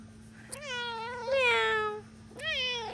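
A house cat gives two drawn-out, whining meows in a row, close and clear over a steady low hum indoors.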